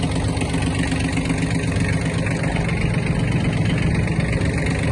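A small Kubota B1-17 mini tractor engine runs at a steady idle, close by, with a constant low drone and clatter that holds even for the whole stretch.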